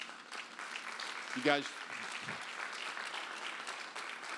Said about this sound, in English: give all the CATS employees a big round of applause